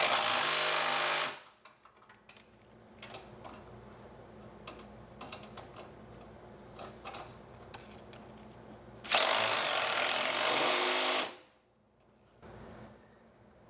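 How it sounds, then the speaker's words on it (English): An impact driver set to about 60 foot-pounds runs down the bumper bracket bolts on a 2025 Chevy Tahoe during a pit bar install. Two loud, sustained rattling bursts frame a stretch of quieter clicking and tapping. "We know that this is right about 60 foot-pounds of torque on this impact driver."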